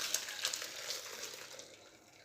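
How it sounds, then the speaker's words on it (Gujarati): Water draining off freshly boiled sweet wheat sev in a home kitchen, a soft hissing trickle with light splashes that gradually fades, quiet and close. "આ રીતે એનું પાણી નિતારી લઈશું।"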